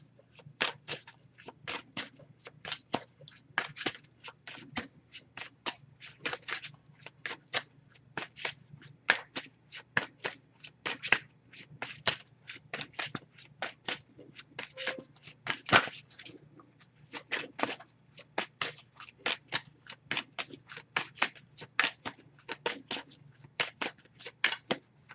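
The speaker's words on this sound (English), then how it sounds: "Just going to pull a single card from this one." Oracle card deck being shuffled, with a single card then drawn: a long run of soft, rapid riffling and flicking card sounds, close and steady, no voices.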